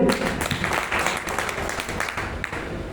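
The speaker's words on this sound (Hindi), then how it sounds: "जोरदार ताली।" Loud, sustained applause from a crowd at a team gathering, steady and dense from start to finish with faint voices mixed underneath.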